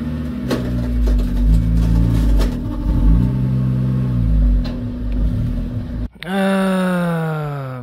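A Honda Jazz car engine hums steadily with a few shifting tones, cuts out briefly, then surges into one sharp, close rev that climbs and holds near the end.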